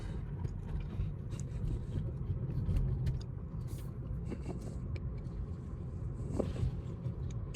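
A 2024 Tesla Model 3 pulls away and cruises, heard from inside as a steady low road rumble and tyre noise at moderate level, with no speech.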